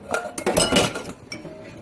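Dishes and utensils clink and clatter close by while dandelion syrup is strained, a quick run of bright metallic and glassy knocks that trails off into a few lighter taps.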